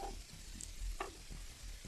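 Prawns fry in a pan with a soft, steady sizzle, broken by a few stirring scrapes and light clinks, fairly quiet and close.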